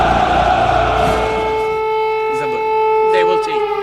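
A steady wailing air raid siren in Kyiv holds a sustained tone at close range, while voices talk and shout over it.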